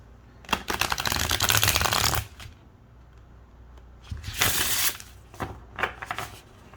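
A Shaman's Dream Oracle card deck being riffle-shuffled, a long rapid flutter of snapping cards, then shorter bursts of riffling and light taps.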